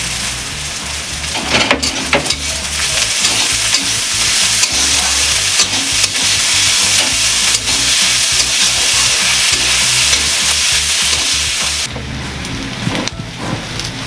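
Crushed garlic and ginger fry in hot oil with chicken liver and stomach, giving a loud, continuous sizzle broken by repeated scraping stirs and a brief quieter gap near the end.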